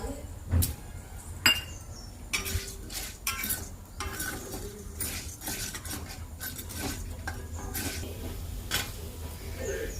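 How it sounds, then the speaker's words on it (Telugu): A handful of dry coconut is stirred in a pan over a stove, with a metal spoon scraping and clinking against the pan in irregular strokes and taps, moderately loud, with no one talking. "ఒక గుప్పెడంతా ఎండు కొబ్బరి వేసి ఫ్రై చేసుకుంటున్నాము."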